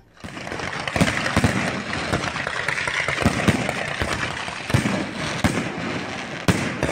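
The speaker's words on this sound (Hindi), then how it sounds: "आतिशबाजी का शानदार मुजाहरा।" A fireworks display at Nankana Sahib: continuous crackling and fizzing with sharp bangs and pops at irregular intervals, a dense, busy barrage heard from moderately close with no one talking.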